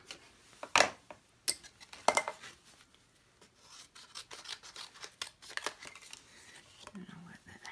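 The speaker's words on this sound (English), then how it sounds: "let me cut that off" Scissors cutting a scrap piece of crumb cake cardstock, a few sharp close snips and crisp paper rustles among quiet handling noises.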